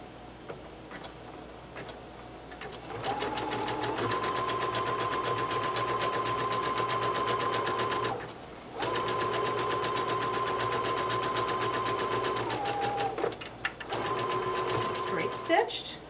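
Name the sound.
sewing machine zigzag stitching raw seam edge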